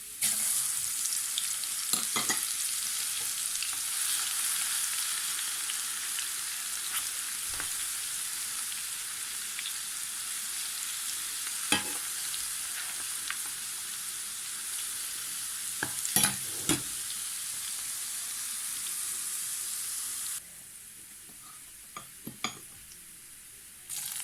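A tablespoon of garlic frying in a pan for moong dal, a bright, steady hiss that continues for a long stretch with scattered utensil clicks and taps, then drops to a quieter simmer near the end.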